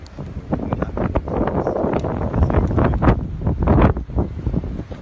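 Strong, cold gusty wind buffets the microphone outdoors, a loud continuous roar with rustling bursts and no speech.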